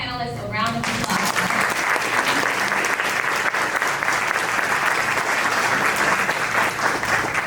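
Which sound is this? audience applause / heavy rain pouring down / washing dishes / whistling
audience applause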